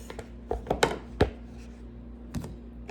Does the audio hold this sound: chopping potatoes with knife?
yes